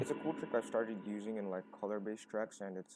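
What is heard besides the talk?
None of the usual background noises is heard.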